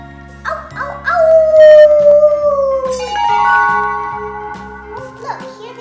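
A voice imitates a puppy howling, a string of rising and falling sung 'ow' howls, loud and close, over a steady rhythmic electronic backing.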